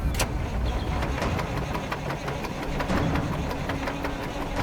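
A road train truck's diesel engine cranks repeatedly without firing on a remote outback desert island, the starter churning in a rapid, even rhythm at moderate distance, with faint clicks over it.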